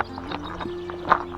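Horses move close by in the countryside, soft hoof clops and snorts scattered over a low hum, with one sharper whinny-like squeal near the end of a short burst.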